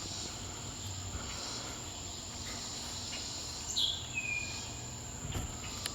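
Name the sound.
Robinson cicadas singing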